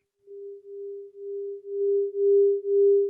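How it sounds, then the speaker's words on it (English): A steady pure sine tone from a computer music oscillator holds one pitch for about three seconds, pulsing gently in loudness and growing slightly louder toward the end, with no voices. "let's just listen to the sine wave for a second."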